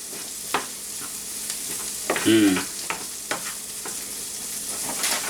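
Food sizzles steadily in a frying pan while a utensil stirs it around, giving a constant hiss broken by several sharp scrapes and clinks, with one louder scrape near the middle.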